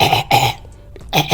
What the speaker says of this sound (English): And then I started coughing.